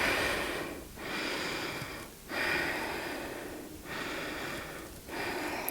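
Slow, deep breathing during a yoga pose, with long airy inhales and exhales repeating in a steady rhythm, close and soft with no talking.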